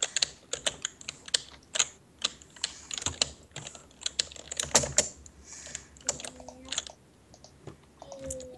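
Quick bursts of typing on a computer keyboard into a game chat during Minecraft, with irregular clusters of close, crisp key clicks and brief pauses, moderately quiet, with no talk over it.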